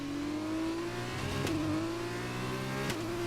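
An F2 race car engine in F1 2021 drones at high revs in a steady tone, with two brief gear shifts briefly breaking the pitch before it climbs again.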